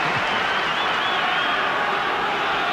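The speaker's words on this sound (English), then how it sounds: "Applause here from the crowd because of the way New Zealand are playing this game." A rugby stadium crowd at a 1991 World Cup play-off between Scotland and New Zealand applauds in a dense, steady wash of clapping and crowd noise that holds at an even level throughout.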